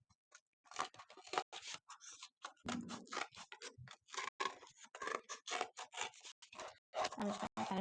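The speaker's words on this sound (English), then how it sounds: "safely cut out your cardboard" Scissors cut through cardboard close up for mask making, a rapid string of crisp crunching snips and scrapes that runs almost continuously.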